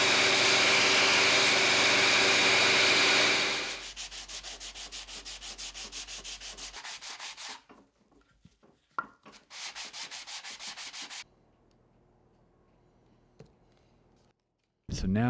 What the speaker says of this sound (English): I went ahead and sanded the whole thing back down to bare wood